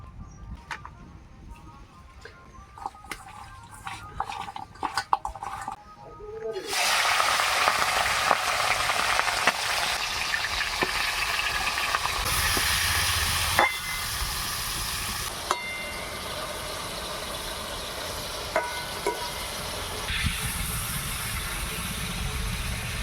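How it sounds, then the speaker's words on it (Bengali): Chicken pieces rubbed with salt and turmeric hit hot mustard oil, bursting into a loud, close, continuous sizzle that holds steady, after a few opening clinks and scrapes of a pan. "মাংসের মধ্যে লবণ হলুদ দিয়ে একটু মেখে মাংসটা ভেজে নেবো সর্ষের তেলে"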